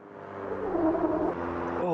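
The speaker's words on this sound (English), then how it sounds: "Oh, listen to the tires." Tires of a heavy truck in the Euro Truck Simulator driving game give a steady tonal whine over a low engine drone, holding loud for about two seconds before the pitch shifts at the end.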